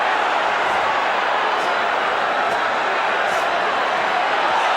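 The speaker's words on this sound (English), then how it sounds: "Crowd is roaring." A boxing crowd roars at a heavyweight bout featuring Butterbean: a dense, steady wall of noise from a large arena audience that holds loud and unbroken throughout.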